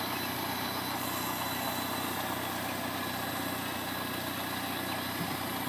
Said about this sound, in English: So that's the Farmall Cub tractor.